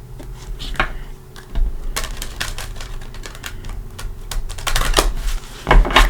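Tarot cards being shuffled by hand: a dense run of crisp clicks and clattering flutters, close and fairly loud, with louder bursts near the end and no talk.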